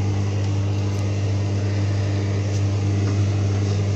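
A washing machine giving off a burning smell runs with a loud, steady low hum and a constant mechanical drone, with no talking.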